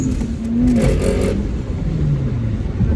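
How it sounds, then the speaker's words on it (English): A Lexus IS300 engine runs with a low, throaty drone and a brief rev that swells and settles, heard close up with no talk. "Like I said, the car sounds intimidating."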